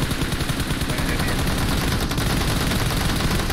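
Dense, continuous automatic gunfire in the PUBG Mobile battle royale game, loud and rapid, with overlapping bursts and no break.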